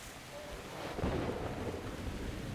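Thunderstorm in the video game Metro Exodus: a steady wash of rain with a deep rolling rumble of thunder swelling around the middle and lingering, moderately loud with no voices.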